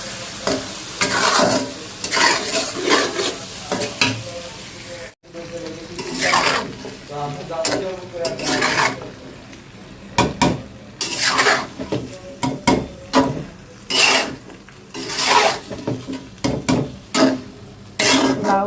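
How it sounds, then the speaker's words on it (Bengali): Bottle gourd curry being stir-fried in a pan, with loud scraping stirring strokes over a steady sizzle and occasional clanks of a utensil against the pan, with some talk in between. "লাউটা দিয়ে দিলাম, লাউটা একটু কষাবো।"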